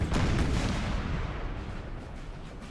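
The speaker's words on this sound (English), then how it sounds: "It all depends on the accuracy of the artillery." Artillery fire rumbles in the Napoleon: Total War battle, heavy booming cannon blasts thundering together in a dense, loud barrage that slowly fades, with no voices.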